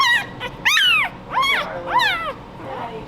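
Newborn puppy whimpering for its mother, a few high, rising-and-falling cries spaced through the moment, close and fairly loud against a quiet background.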